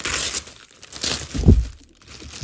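Close, loud crinkling and rustling of plastic packaging being torn open, with a brief crunchy burst in the middle and no speech.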